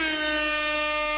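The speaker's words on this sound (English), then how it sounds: "And if I do an air horn," A single sustained air horn sound effect blast, loud and steady, sounding alone for just over a second.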